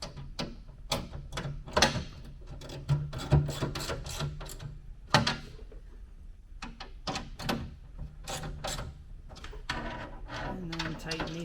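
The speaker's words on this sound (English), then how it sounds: "And I'm going to tighten the two on the wall all the way down." Bolts being tightened while a TJ Ridgeback is fitted, giving repeated sharp ratcheting clicks and metallic clatters in uneven bursts, close by and fairly quiet.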